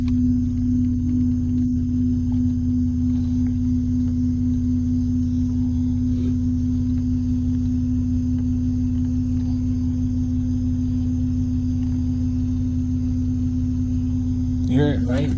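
Rear of a Chevy Blazer while the brake pedal is held: a steady, droning tonal hum sits over a low engine rumble and lasts the whole stretch without changing.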